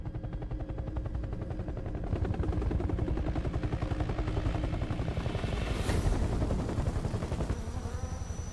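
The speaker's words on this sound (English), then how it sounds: "What's a Russian gunship doing out here?" Russian gunship helicopter with a fast, pulsing rotor chop that swells louder midway, mixed with bursts resembling machine-gun fire, no voices heard.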